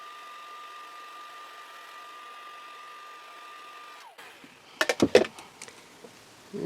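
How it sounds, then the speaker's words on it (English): A heat tool blows over wet watercolor paint on a handmade Christmas card, a steady whirring hum for about four seconds that cuts off, followed by a few close handling knocks and clatters. "I'm going to take my heat tool and dry what I've done so far"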